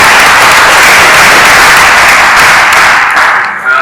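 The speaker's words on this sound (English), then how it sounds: "Can you clap for me?" Dense, loud audience clapping at a stakeholders' retreat, a close, continuous burst that tapers slightly near the end.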